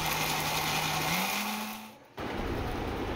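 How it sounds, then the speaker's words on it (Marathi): A mixer grinder grinds crab curry masala with a little water, whirring loud and steady. Its pitch rises midway before the motor briefly cuts out and then restarts. "मिक्सरच्या भांड्यात थोडंसं पाणी टाकून आपण हे बारीक वाटून घेऊया।"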